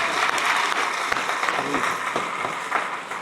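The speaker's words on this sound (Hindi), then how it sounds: "अपनी जोरदार तालियां एक बार" An audience at a book-opening event claps together in a sustained round of applause, with dense, moderately loud clapping that continues steadily and eases a little toward the end.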